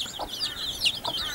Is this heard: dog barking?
no